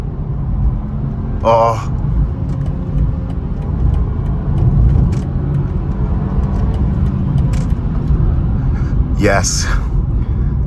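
A BMW G20 320i on new Radar Dimax R8+ ultra high performance tyres accelerates hard, its engine and road noise a loud continuous rumble from inside the cabin, with brief exclamations from a person inside.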